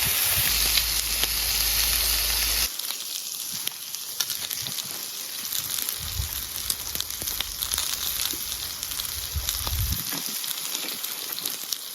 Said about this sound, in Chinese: 这种锅这么一煎，嘿，升华，这边已经煎黄了